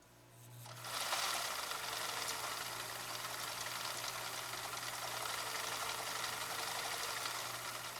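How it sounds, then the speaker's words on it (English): A 1965 Husqvarna Viking 2000 sewing machine starts after a second and runs at a steady, fast, even whir with a constant low hum, close and loud throughout, with no voices. "And y'all listen to the machine run."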